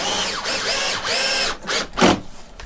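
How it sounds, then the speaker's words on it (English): A screw is driven through a mounting hole to fix a Roman shade into a window frame, giving a close, continuous whirring ratchet-like grind with short pauses and a final louder burst. "So we take that second screw and put it right through the hole."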